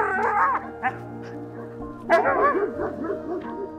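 A nearby dog gives a run of short yips and whimpering barks in two bursts, loud and close with a pause between them.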